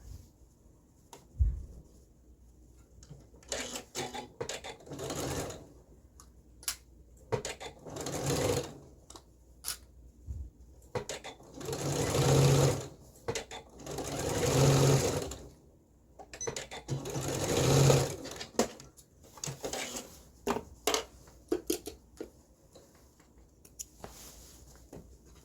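A sewing machine stitches pleats on a pair of pants in short bursts, each run a quick rattling patter with pauses and soft fabric handling between.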